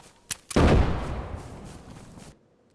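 A loud, close burst of gunfire or a blast in the video game DayZ hits after a couple of short sharp cracks, then a rumbling tail fades out over about two seconds.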